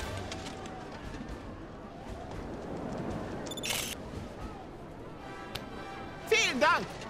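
A single camera shutter click snaps once midway in the video game Final Fantasy 7 Rebirth, set against ambient game sound, with voices speaking nearby.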